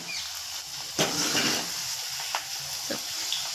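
Ivy gourd (gilodi) sizzling as it fries in a pan for a vegetable dish, a continuous hiss broken by a few sharper bursts as the pieces are stirred, close and moderately loud, with no talk.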